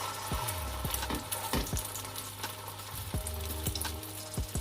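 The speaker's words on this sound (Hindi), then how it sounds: "मैं कबाब को अंडे की कोटिंग करके तो फ्राई कर लूँगी" Egg-coated shami kebabs fry in hot oil on a flat griddle, giving a steady close sizzle scattered with small pops and crackles, and no voices.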